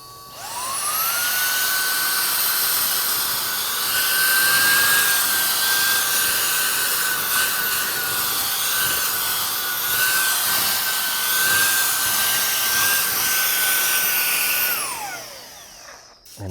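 A Shark StainForce cordless spot and stain cleaner runs steadily for about fifteen seconds, giving a loud, constant high-pitched motor whine with airy suction noise. The tone ramps up at the start and winds down at the end.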